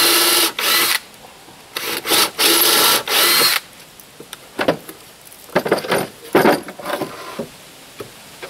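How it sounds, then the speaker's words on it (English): A power drill whines in several short bursts, pre-drilling holes in wood for kitchen cabinet framing, with lighter clicks and handling noises in the gaps. "Just pre-drilling all the holes."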